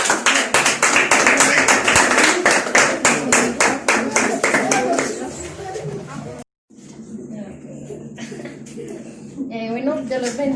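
A church congregation claps for the Lord at a Sunday service, a dense run of rhythmic hand claps that fades out around the midpoint, followed by a brief silence and then someone speaking alone.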